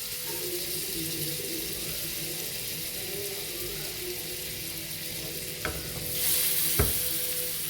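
Butter melts in a hot pan with a soft, steady sizzle and faint stirring, a couple of brief clinks near the end.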